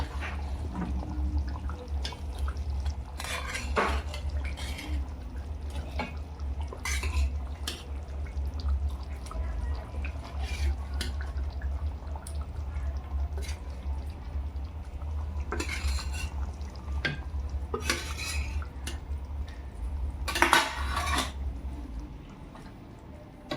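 Fried tuna pieces are folded into biryani gravy in a pot, giving soft wet squelches, drips and occasional clinks of a spoon against the pot over a low steady hum, close and without speech.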